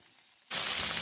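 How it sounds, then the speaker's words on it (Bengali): Onions and capsicum drop into hot oil with grated ginger garlic for egg chili, setting off a sudden loud, even sizzle after a quiet moment. "এবার ফ্রাই করে নিচ্ছি।"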